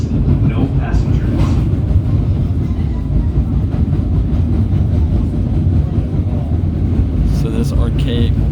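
A PATH train rumbles loudly and steadily over an old, archaic railway bridge on the approach to Newark, with a constant low roar of wheels and car noise throughout and brief higher rattles near the end.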